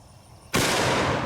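A large double-barrel gun fired by string from a front trigger lets off a single very loud, cannon-like blast that jumps from near silence and rings on without decay, close by.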